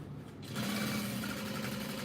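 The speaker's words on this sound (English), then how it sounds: "in the seam allowance and back stitch, trailing into the normal stitch line" A sewing machine back stitches a tote bag seam, starting after a brief quiet moment into a steady, rapid mechanical whir that runs close and continuous to the end, with no talking.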